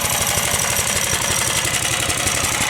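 Small Wheelie Horse garden tractor engine running steadily, a loud close chugging with dense rapid firing pulses that never let up, heard alone without speech.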